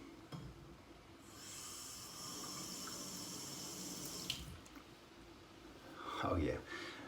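Water runs steadily from a tap during rinsing, a soft continuous hiss with a brief louder splash near the end; quiet voice sounds appear faintly beneath it.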